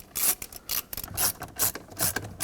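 A screw is started by hand into the combination switch of a 2009-2014 Ford F-150, making a close, quiet, rhythmic series of short ratcheting and scraping bursts with no talk.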